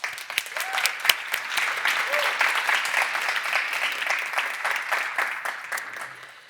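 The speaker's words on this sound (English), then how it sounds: "A round of applause for them" A conference audience applauds as six panel members are introduced at an international food science conference, steady clapping from a moderate crowd with sharp individual claps standing out, fading slightly toward the end, with faint voices underneath.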